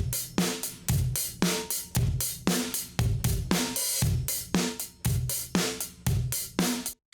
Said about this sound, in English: Now, if I push that compression even harder, you'll hear the drum kit breaks up even more.